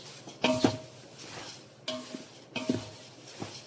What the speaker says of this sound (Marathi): आणि छान पोहे पण आता फोडणीमध्ये मी मिक्स करून घेणार आहे.